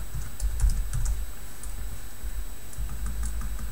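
Bursts of computer keyboard typing while entering JavaScript code, close and clear, in irregular quick clusters with short pauses between them, no speech.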